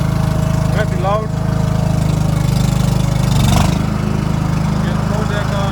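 A Stiga Park compact ride-on lawnmower's engine runs loud and steady close by throughout, a continuous low drone with a brief swell near the middle, as a person talks over it now and then.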